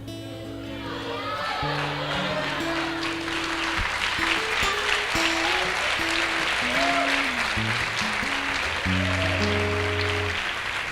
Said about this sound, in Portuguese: seus aplausos foram um incentivo, agora eu lembrei